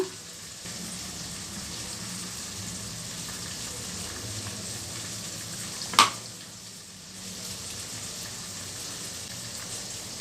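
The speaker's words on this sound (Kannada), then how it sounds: "ಈಗ ಬಾಣಲಿಗೆ ಹಾಕೋಣ ಈಗ ಸ್ಮ್ಯಾಶ್ ಮಾಡಿರೋಂಥ ಆಲೂಗಡ್ಡೆ ಹಾಕ್ತಾಯಿದ್ದೀನಿ" Smashed potatoes sizzling steadily in a hot pan for potato sagu served with dosa, a soft even crackle throughout with one sharp metallic clink partway through.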